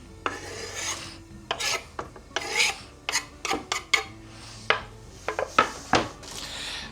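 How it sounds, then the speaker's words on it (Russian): Chopped vegetables and basil for an Italian chicken meatball soup scraped and tipped into a pot, a run of close, sharp scraping and clattering knocks in irregular bursts, no voices. "Все нарезки отправляем теперь в кастрюлю."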